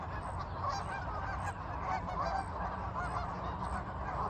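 Canada geese honk outside in a loud, dense chorus, continuous overlapping calls from a sizable flock heard through closed windows.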